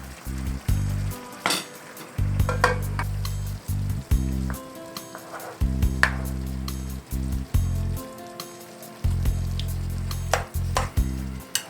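Spoon stirring one-pot cheesy beef pasta in a pot, rhythmic scraping strokes in bursts over a steady bubbling sizzle, close and fairly loud, no talk.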